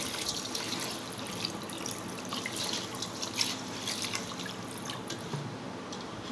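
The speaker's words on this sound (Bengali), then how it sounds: "খিচুড়ি পানি দিয়ে দেবো।" Water runs into a pot of hand-mixed khichuri for a rice cooker, a steady close splashing trickle lasting the whole stretch with no voices.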